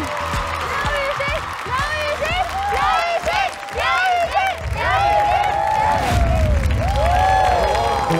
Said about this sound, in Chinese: 好，掌声有请